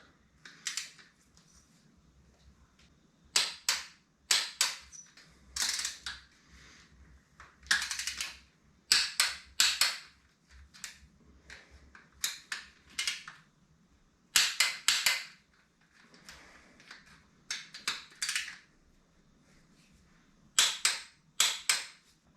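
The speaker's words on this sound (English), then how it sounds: "we'll torque it up to 30 just so we know that they're a little bit firmer than the head bolts" Quad engine rebuild on a Yamaha YFM225: a torque wrench tightens bolts to 30 newton meters, giving clusters of sharp, close metallic clicks separated by short pauses, with no talking.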